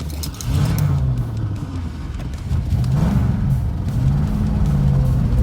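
A 5.0 V8 in a Fox-body Ford Mustang project car idles with a steady, close, low rumble that rises slightly in the middle, with no one speaking.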